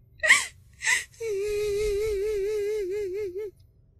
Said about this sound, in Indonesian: mendengar tangisan wanita di bagian belakang